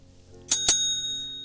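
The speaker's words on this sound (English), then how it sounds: "We gotta ding our hackle bell." A small hackle bell at a fly-tying bench gives two quick bright dings in close succession, ringing out clearly and fading in a quiet room.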